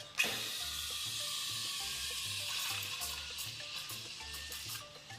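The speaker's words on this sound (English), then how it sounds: "lower the jug so you hear that slurping sound" An espresso machine steam wand aerating milk in a jug gives a steady, loud, close hiss with a bubbly slurping texture that runs unbroken for about five seconds, with no talk.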